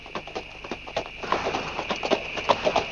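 Horse hooves clip-clop in a steady, fairly close rhythm while riding toward a town, the beats growing slightly louder and denser over a few seconds.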